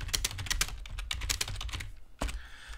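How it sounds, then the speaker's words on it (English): Quick, close keyboard clicks tap out in bursts, a brief lull, then a sharper keystroke and a few more taps. "I can just start typing"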